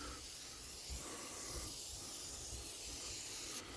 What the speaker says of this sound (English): So just get the WD-40 and spray it in here as well.